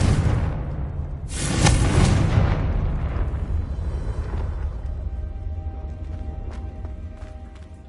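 Confringo spell blast in the Hogwarts Legacy video game: one loud, close explosion with a sharp burst and a long rumbling decay fading over several seconds.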